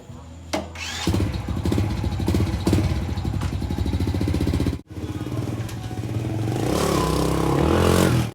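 Honda Wave100s motorcycle engine running as it rides off, a loud close steady putter with a short clatter at the start, a brief drop in the middle, then rising revs, with no talking.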